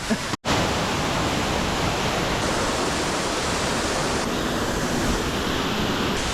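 A big waterfall near Chamonix roars in a steady, loud, unbroken rush of water that fills the whole clip, with one brief dropout near the start.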